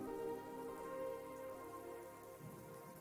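Steady rainfall pattering through an ambient electronic track, a continuous soft hiss layered over sustained synth tones for the whole stretch.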